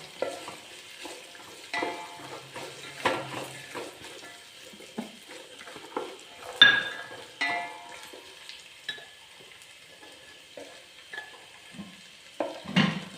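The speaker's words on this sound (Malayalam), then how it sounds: "ക്യാരറ്റ് ഒരുവിധം വേവാവുന്നിടം വരെ വഴറ്റി കൊടുക്കണം" Carrot for a mango-carrot pickle is sautéed in a pan, with a soft continuous sizzle under repeated scraping strokes of a spoon against the metal, and a few sharper clinks.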